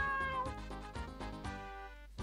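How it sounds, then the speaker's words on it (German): A cat meows in the RPG Maker 2003 game El Dorado 2, a few short, close, clear mews in quick succession over background game music. "Hey Katze. Mietz, Mietz, Mietz,"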